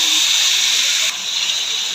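Tomatoes frying in leftover fish-frying oil in a kadai give a loud, steady broadband hiss that drops slightly partway through and continues evenly, with no talk over it.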